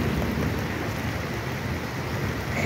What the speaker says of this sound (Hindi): यहाँ पे बहुत तेज बारिश आ चुकी है।